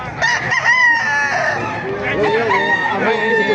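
A rooster crows loudly close by at a market, a long strained cock-a-doodle-doo, with a second crow and some clucking blending in.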